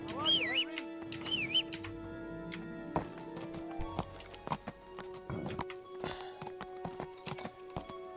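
In the medieval game Kingdom Come, a horse neighs twice with a rising whinny, followed by scattered hoof clops and thuds under faint background ambience.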